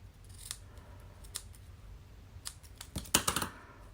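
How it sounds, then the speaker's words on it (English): Scissors cutting ribbon at an angle for a card-making project, with quiet snips spread through the clip and a close cluster of crisp cuts near the end, no talking. "You can cut at an angle here."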